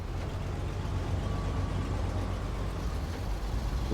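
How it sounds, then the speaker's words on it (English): A truck engine in the SnowRunner video game gives off a steady low rumble that holds even and continuous throughout at moderate volume, with no voices present. "Love that rumble to the engine, though."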